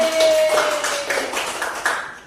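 Classroom clapping, a short burst of rhythmic hand claps from a group of students, fairly close and loud, with a faint tone running through.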